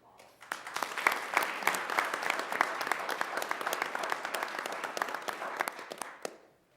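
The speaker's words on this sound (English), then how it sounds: "Let's give these guys another round of applause." A board of education meeting audience applauds student award winners with a sustained round of clapping from many hands, fairly even throughout and fading out at the close.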